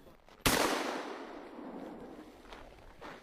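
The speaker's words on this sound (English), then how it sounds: "I decided to shoot some clays" A shotgun fires a single loud, sharp blast at clay targets in winter Harbin, echoing and decaying over a couple of seconds, with faint outdoor rustling after.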